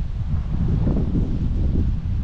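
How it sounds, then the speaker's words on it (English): Strong wind roars and buffets the microphone in heavy, rumbling gusts, with no other sounds standing out. "Terribly windy today."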